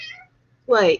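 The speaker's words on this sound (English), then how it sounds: "That's my cat." A house cat meows loudly once near the end, a rising harmonic cry, after a person briefly speaks.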